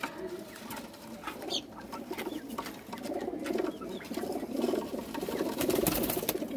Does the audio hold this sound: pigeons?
yes